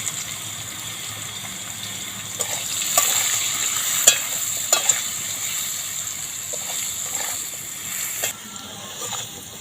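Potatoes with salt and turmeric frying in hot oil, a steady close sizzle with scraping spatula stirs and a few sharp clinks against the pan midway, no voices.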